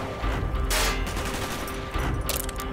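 Gunfire in Call of Duty: Black Ops rings out as dense, loud, sustained bursts of automatic shots layered with booming reports, up close and continuous across the stretch.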